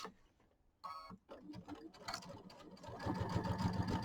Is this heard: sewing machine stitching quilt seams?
yes